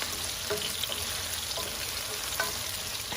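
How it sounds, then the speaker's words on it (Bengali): Onions sizzle in hot oil as they cook toward light brown for chicken biryani, a steady continuous hiss with a few faint clinks of a utensil, no talking. "পেঁয়াজটা আমি হালকা বাদামি কালার করে নিব"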